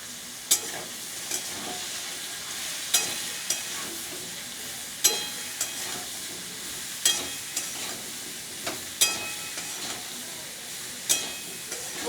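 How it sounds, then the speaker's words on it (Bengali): Chopped ridge gourd, eggplant, pointed gourd and slit green chilies fry in hot oil with a steady sizzle, broken by regular sharp scrapes and clacks of a spatula stirring the pan. "এবার আমি ছোট ছোট করে কেটে রাখা ঝিঙে, বেগুন এবং পটলটা দিয়ে দেবো, আর দেবো তার সাথে কাঁচা লঙ্কা চেরা।"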